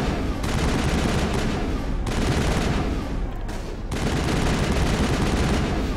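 Sustained automatic gunfire rattles continuously in the Mass Effect space shooter, dense and loud, with brief lulls between long bursts and no talking.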